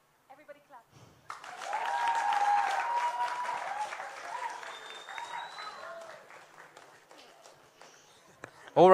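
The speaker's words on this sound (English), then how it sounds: "Everybody clap." An audience at an Eastern Africa music summit claps along after a brief pause, a moderate wash of clapping mixed with voices and whistles that gradually thins.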